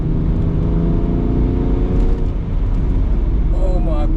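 A 2014 BMW 335d xDrive Touring F31 diesel with a Stage 1 tune accelerates hard, its deep engine drone and rising whir heard from inside the cabin, steady and loud throughout with people talking over it.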